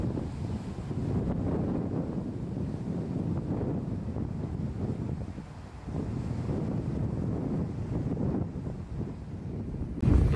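Strong coastal wind buffets the microphone in a steady roar over ocean surf at Ka'ena Point, Hawaii, during a hike. The noise is continuous with a brief lull midway and no voices.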